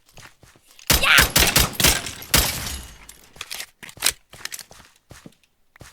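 Pistol gunfire in a horror video game: a quick cluster of sharp shots early on, followed by scattered clicks and thuds that fade to quieter intermittent ticks.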